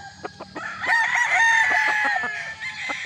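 A pure Dark Allen gamefowl rooster on a game farm crows once, a loud, close, sustained call that swells and then trails off. Sharp clucks and short clicks come before and after it.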